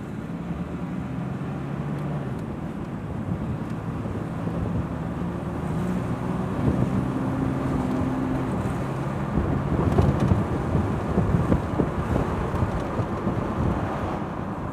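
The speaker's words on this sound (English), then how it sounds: "we're going to start to drive the vehicle now and put it under a load" A car driving under load on the road, a steady broadband rumble of engine and road noise that swells slightly around the middle and holds continuously throughout.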